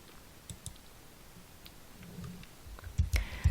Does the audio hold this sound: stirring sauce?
no